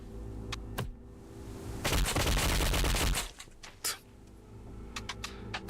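A loud burst of rapid gunfire from the sci-fi shooter game Warframe lasts about a second and a half, framed by scattered sharp clicks and quieter single shots before and after.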